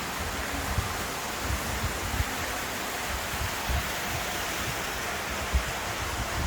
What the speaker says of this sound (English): This is the sound of an electric narrowboat going through a tunnel.